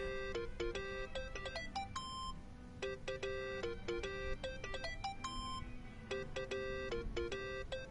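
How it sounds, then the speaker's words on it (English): A mobile phone ringtone plays in the video game Yakuza: Like a Dragon, a bright repeating electronic melody that loops steadily and clearly for several seconds with no talk. "Think that's your phone, man."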